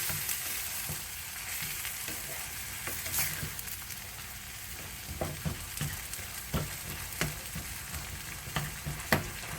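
Hamburger meat and onions sizzle steadily in a pan while browning, with a constant frying hiss under intermittent scraping and stirring clicks, and no voices.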